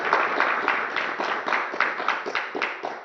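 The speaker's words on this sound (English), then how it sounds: "Let's give a big round of applause to Maharaj." An audience at a spiritual talk claps for a visiting Hindu monk, steady, moderately close rhythmic clapping from a modest crowd that continues evenly throughout.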